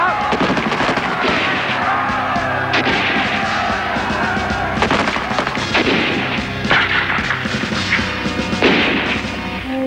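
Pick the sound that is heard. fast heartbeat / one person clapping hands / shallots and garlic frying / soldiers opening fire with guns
soldiers opening fire with guns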